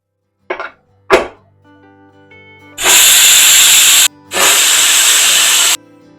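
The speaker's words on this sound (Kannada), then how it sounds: "ಈಗ 2 ವಿಷಲ್ ಆಗಿದೆ." Pressure cooker cooking egg biryani lets out two long, loud hissing whistles of steam, each lasting over a second with a short gap between, after a couple of brief clanks.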